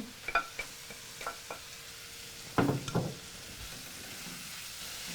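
Tomato and coriander sautéing in a pan, with a soft steady sizzle broken by several sharp clinks and scrapes of stirring, one louder clatter midway, no voices over it.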